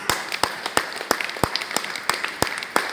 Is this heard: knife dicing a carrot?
no